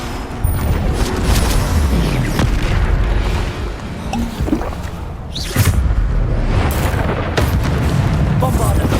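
Spell explosions in the Hogwarts Legacy video game, repeated heavy booms and blasts amid dense battle noise, loud and continuous, with a voice casting incantations over the fighting.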